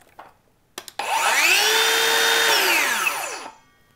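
A Ryobi ONE+ HP 7-1/4 inch cordless circular saw starts up after a couple of clicks, holds a loud, steady whine for about two and a half seconds, then brakes with a falling pitch to a quick stop, close up and alone.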